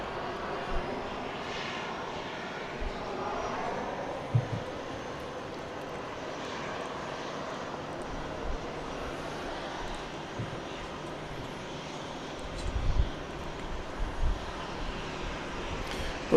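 A Southwest airliner takes off from Dallas Love Field, its jet engine roar building as a steady, distant rumble that swells and fades over about sixteen seconds, with faint thumps near the end.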